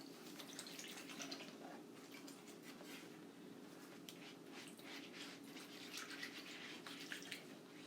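Water-soluble chalk is washed off a double-sided round chalkboard in a small tub of water, giving quiet splashing and dripping in soft irregular bursts over a faint steady hum, with no one speaking.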